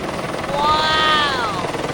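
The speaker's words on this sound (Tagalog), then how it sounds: "Meron ding helicopter." A helicopter flies overhead at a hot air balloon festival, its steady rotor drone joined by a whining tone that rises and fades as it passes, loud against open-air background noise.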